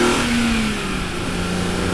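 A BMW E46 M3 engine revs after a downshift, a loud, close mechanical drone whose pitch sweeps and holds steady over two seconds, with no talking over it.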